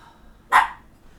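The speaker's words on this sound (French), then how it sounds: "vous allez entendre le petit aboyer" One sharp, close bark from a small dog, loud and alone against quiet background.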